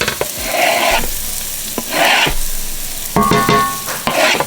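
Shallots cooking down in a hot pan give a steady close sizzle and frying crackle, broken by a few stirring scrapes, heard alone.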